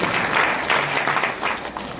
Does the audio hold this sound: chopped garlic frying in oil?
no